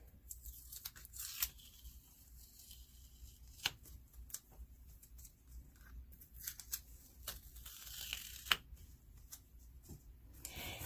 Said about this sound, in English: Go ahead and pull all your tape off.